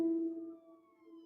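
An ambulance siren on Central in Highland Park sounds as a steady, sustained electronic wail at moderate distance, fading slightly, with no talk over it.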